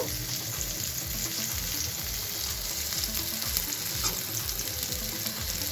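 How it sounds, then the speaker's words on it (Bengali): Cauliflower pieces fry in hot oil in a pan for pulao, a steady close sizzle with faint stirring and scraping throughout, no voices. "ফুলকপিটাও খুব ভালো করে ভাজা হয়ে গেছে, এবার তুলে নেব"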